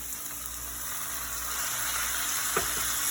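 Mushrooms and yogurt fry in a pan for mushroom biryani with a steady, close sizzle. Occasional stirring scrapes sound over the constant hiss, and no one talks.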